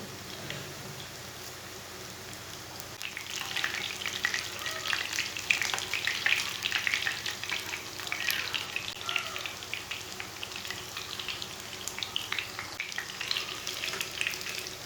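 Chapli kabab patties of minced meat fry in a pan with a soft, continuous crackling sizzle that rises a little partway through, fairly quiet and heard alone.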